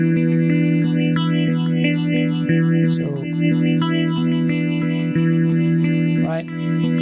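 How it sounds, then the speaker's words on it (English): Stereo phaser modulation on a sustained synth tone, with the right channel's sweep inverted against the left, giving steady, continuous swirling notches that move across the sound for several seconds while a brief word is spoken at the start. "Gen 1 is controlling my phasing, is modulating my phaser, and with this button I can invert, because I'm in stereo, I can invert channel right compared to channel left"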